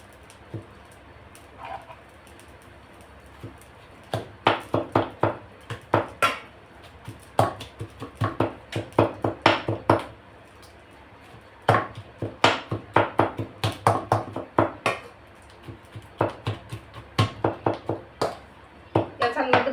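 Roasted eggplants for bharit being mashed in a pot, a series of dull rhythmic thumps and scrapes in irregular bursts, fairly close, over a quiet room background.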